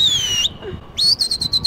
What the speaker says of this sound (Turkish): Burada bütün güvercinleri bu ıslıkla birbirine topluyor.